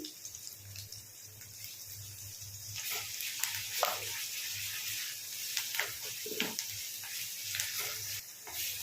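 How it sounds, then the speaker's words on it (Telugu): Ginger, garlic paste and onions with curry leaves frying in a pan, a steady bright sizzle that swells and crackles with spattering bursts, close and continuous. "అల్లం వెల్లుల్లి ఉల్లిపాయలు అయితే మంచిగా వేగిపోయినాయండి."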